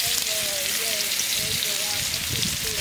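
A paste of garlic, dried chili, cumin and onion sizzles in hot oil with a steady, dense hiss, close and fairly loud, as faint music plays underneath.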